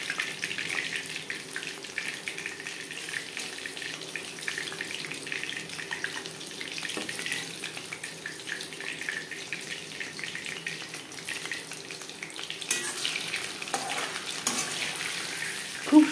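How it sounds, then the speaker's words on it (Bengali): Chicken pakora fries in oil with a continuous, even hiss of bubbling that sounds almost like running water, holding steady at moderate loudness and ending with a faint clink. "উল্টে পাল্টে প্রথম ব্যাচে পাকোড়া ভাজা হয়ে গেছে।"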